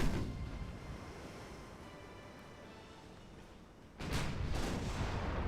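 Heavy naval guns firing in the Ultimate Admiral Dreadnoughts warship game: after a quiet stretch of low rumble, a sudden loud boom of a salvo bursts in and keeps rolling.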